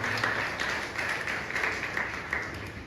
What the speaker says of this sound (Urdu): زوردار تالیاں بجا دیں ماؤں کے لیے